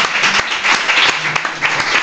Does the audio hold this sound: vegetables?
no